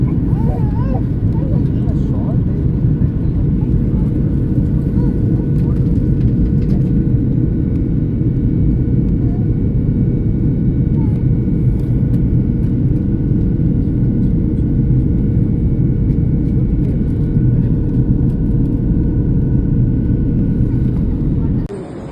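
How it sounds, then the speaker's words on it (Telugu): Steady, loud low-frequency engine roar and hum of a passenger airplane cabin during descent toward Vijayawada, a continuous drone that does not let up. "ఫ్లైట్ రెడీ అవుతుంది దిగేదానికి"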